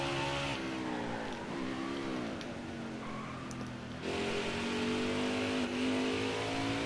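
Race car engine in NASCAR Heat 4 gameplay, a steady mid-pitched roar with clear rev changes as the gear drops, pitch sliding down and climbing again, loud and continuous with no talk.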